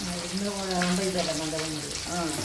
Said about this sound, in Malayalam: വെളുത്തുള്ളി ചേർത്ത് കൊടുക്കുക. വെളുത്തുള്ളി നന്നായി മൂക്കണമെന്ന്